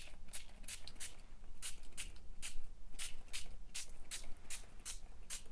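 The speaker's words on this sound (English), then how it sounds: "Try spraying some water on and see what happens." Repeated short bursts of a spray bottle misting water onto paper, about a dozen quick hissing sprays at an irregular rhythm, close and fairly quiet.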